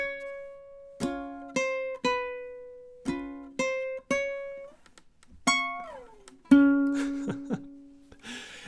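Solo ukulele playing measures 3 and 4 of a theme tune, a bouncy run of about a dozen plucked notes in a steady rhythm, close and clear with short ringing decays and a brief strum at the end.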